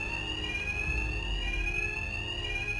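Bank alarm ringing continuously in the video game Batman: Arkham Knight, a steady high electronic tone holding loud and unbroken over a low rumbling background.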